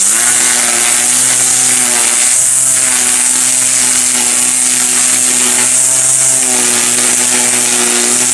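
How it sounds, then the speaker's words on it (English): A Black & Decker 40V battery string trimmer set up as an edger whines loudly and steadily at close range, its motor pitch dipping and rising slightly as the line cuts along the lawn edge. "It's very quick and easy to convert to an edger."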